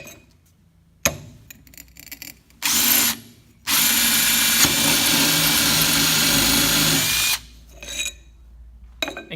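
An ARTU quick connect multi-purpose drill bit whirs through hard material in several bursts: a short burst, then a long, loud, steady grinding drill run of about four seconds, then quieter handling noises.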